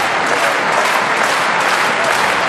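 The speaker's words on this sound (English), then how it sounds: "The crowd trying to lift Boll" Crowd applauding at a table tennis match, the German Open men's singles final, a dense steady wash of clapping from a large arena audience throughout, loud and sustained with no talk over it.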